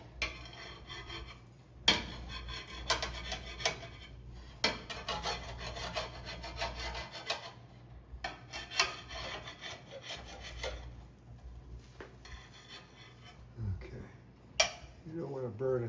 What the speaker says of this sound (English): after some pan cleaning